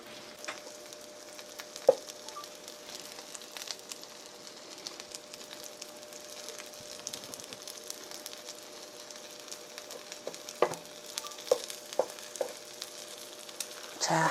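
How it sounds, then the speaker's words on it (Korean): Egg-battered jeon pancakes fry in a pan with a soft, faint sizzle, broken by occasional small pops and clicks of cooking utensils, quiet and close. "이런 식으로 해서 계란물을 씌워서 부어주시기 바랍니다"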